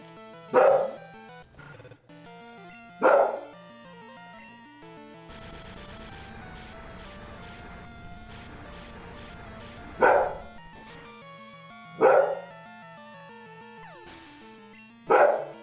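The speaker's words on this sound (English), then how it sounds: "just keep sitting there and barking" A dog barks in sharp, loud bursts spaced a few seconds apart over a steady background of chiptune music from a Japanese Pokemon Crystal game, with no talking.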